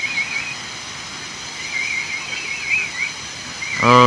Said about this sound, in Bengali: গুড্ডু আজকে অনেক সুন্দর সিটি বাজাচ্ছে